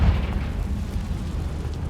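A Confringo fire spell in Hogwarts Legacy bursts into a loud, deep, rumbling explosion that hits at once and then rolls on as a sustained low boom.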